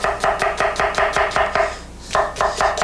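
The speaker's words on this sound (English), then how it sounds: "Now we're just going to cut julienne onion like this." A knife slicing an onion into julienne strips on a cutting board, quick even chops about four per second, close and crisp, with one short pause before the rhythm picks up again.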